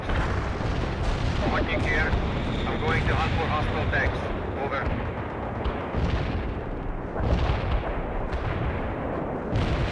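Artillery barrage in the World in Conflict video game, a dense, continuous roar of booming rounds and rumbling impacts under radio-style voice chatter throughout.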